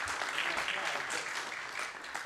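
Audience applause at a jazz drumming book presentation, a steady dense patter of many hands clapping throughout, heard at a moderate distance and fairly quiet.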